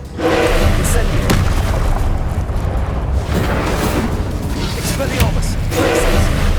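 A fiery Incendio spell cast in Hogwarts Legacy, heard as loud, dense booming bursts and whooshing blasts that continue steadily with sharp attacks near 1.3 and 5.3 seconds, layered over game music and effects.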